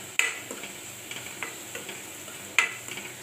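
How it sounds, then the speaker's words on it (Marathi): Sprouted moth beans (matki) are stirred in a pan while frying, with a low sizzle behind a few sharp scrapes and taps of the spoon against the pan, spread irregularly. "हे चांगलं परतून घ्यायचं."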